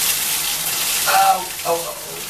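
Tap water running steadily into a sink while something is rinsed, a close hiss with brief splashy changes, under a faint voice.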